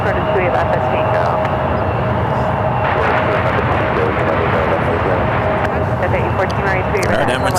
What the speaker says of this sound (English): Alright, Emirates heading to 28s.